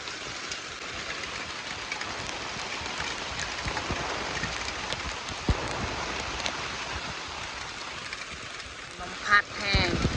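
Heavy rain pouring onto a shelter in a forest, a dense, steady hiss and patter close by with no letup, and a brief louder knock near the end.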